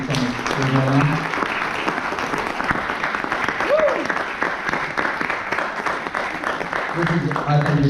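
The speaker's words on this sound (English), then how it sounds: "we'll give a nice warm round of applause to all our great candidates" A forum audience gives sustained applause to the candidates after a debate, the clapping dense and continuous for several seconds, with voices talking over it at the start and end and a brief whistle partway through.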